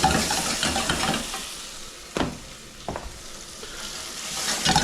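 Onions frying and softening in a pan, a steady close sizzle with a few louder stirring scrapes and clatters, no voices.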